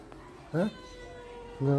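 A cat gives two short meows close by, a brief rising call followed after a pause by a second, with quiet room sound between.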